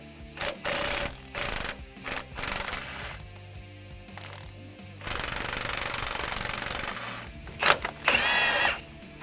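A bolt being removed from a Nissan Xterra strut with an impact wrench, heard as several short bursts of rapid hammering and one long rattling run, close up and loud with pauses between, and no talk.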